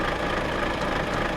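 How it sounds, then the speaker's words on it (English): A Volvo F Series truck engine idling in Euro Truck Simulator 2: a steady, even diesel rumble with a faint knocking texture, continuous and close, with no talk. "So we just turned the engine on."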